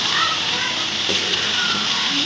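Chicken pieces sizzle and fry in a pan as they are stir-fried for chicken kosha, a steady, close hiss that holds throughout.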